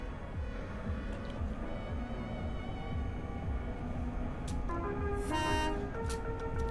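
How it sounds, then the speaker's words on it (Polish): Vehicle horn of a metro train in the Hmmsim Metro simulator game, a brief tonal toot sounding near the end over a steady rumble of the train. "No, ale trochę słaby ten klakson."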